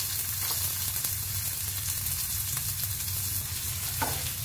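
Chopped onion sizzling in a hot pan, with steady close-up frying crackle throughout and a low hum underneath.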